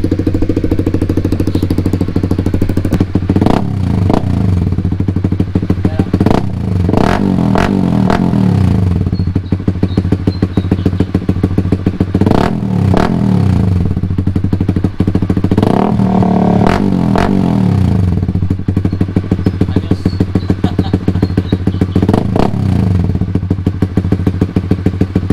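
A Honda Winner X 150 motorcycle fitted with an AHM exhaust pipe idles with a steady low rumble while its throttle is blipped repeatedly into short, loud revs, close by and without speech.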